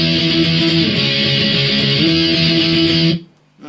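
An electric guitar plays distorted, loud power chords from the guitar 1 chorus part of a song. The thick chords are repeated in a steady chug for about three seconds and then cut off abruptly.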